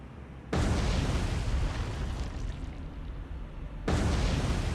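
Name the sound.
torpedo hits exploding on ships in video game War on the Sea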